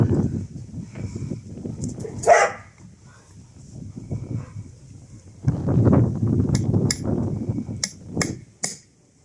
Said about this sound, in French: Je tape un peu trop fort. Je fais des trous dans le bois.